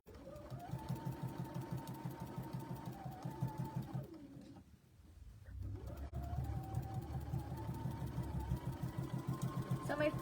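A Bernina sewing machine stitches a fabric bowl cozy at a slow pace, its steady rapid needle rhythm running close and clear, pausing briefly midway before resuming, with faint background noise.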